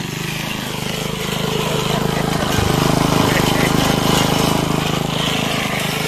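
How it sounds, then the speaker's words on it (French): An old lawn mower's small engine runs steadily with a rough, throbbing drone that grows louder, while a person talks over it. "cette tondeuse, c'est une tuerie, quoi."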